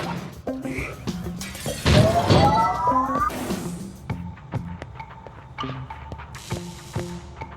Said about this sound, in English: the breaking of this glass is a necessary evil